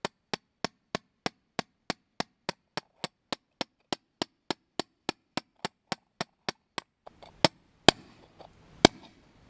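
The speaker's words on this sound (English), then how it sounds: "I'm going to take this chisel here, and I'm going to just start tapping with this hammer" Steady, evenly spaced metallic taps of a hammer on a steel chisel cutting into sandstone, over twenty in a row, then a few louder, irregular strikes with a scraping sound.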